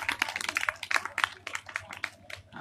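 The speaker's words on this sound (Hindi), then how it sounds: "हाँ इनके लिए ताली बजा।" A seated audience at a Bhagwat katha religious discourse in Saharanpur bursts into quick, scattered handclaps. The claps form a dense, fairly close patter across the whole moment, with no talk over them.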